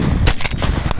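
A shotgun blast rings out close by during a dove hunt in stormy weather, one sharp report followed by a second, quicker shot and a faint voice underneath.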